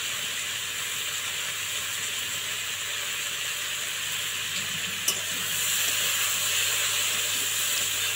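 Taro stolons (kochur loti) fry in a pan with salt and turmeric, giving off a steady, dense sizzle that holds throughout, with one brief clack near the end and no talk.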